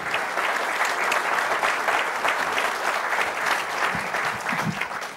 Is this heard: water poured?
no